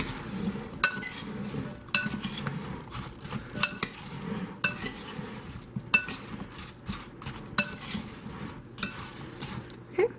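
Metal spoon clinks against a bowl while sliced apples are stirred with vanilla, a steady run of close, sharp taps and scrapes with soft rustling in between.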